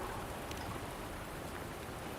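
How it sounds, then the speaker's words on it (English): Rain falling in the video game Wuthering Waves, a dense, continuous hiss of drops that stays steady and even from start to finish, with no voices over it. "Don't worry, the rain won't last much longer."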